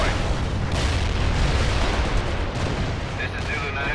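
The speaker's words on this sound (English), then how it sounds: "Artillery strike was on the mark." Booming artillery shell impacts from the World in Conflict strategy game, a dense continuous rumble of blasts running throughout at steady loudness, with faint radio-style voices in the background.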